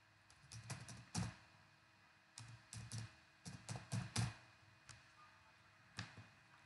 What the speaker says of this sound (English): and then you just start typing what you want to type